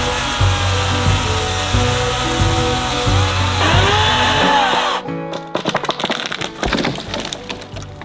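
Chainsaw or power saw cutting through deadfall timber in a dense British Columbia forest, a steady loud buzzing drone that breaks into choppy, uneven bursts and cracks near the end.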